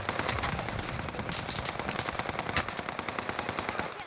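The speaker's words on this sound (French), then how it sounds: "On tire dessus à gauche, direction ouest." Rapid automatic gunfire from a Warzone Pacific match, with dense bursts of shots repeating steadily for several seconds, loud and close, with more shooting layered in the distance.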